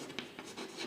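Pen strokes from writing out chemistry reaction steps, a faint, quiet scratching with a few brief repeated strokes close by.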